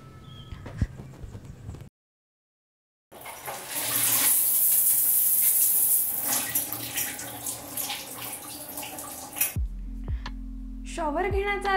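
Shower water runs in a home bathroom as a strong, continuous splashing stream for several seconds after a short silence, then cuts off, followed by a brief voice and faint household sounds.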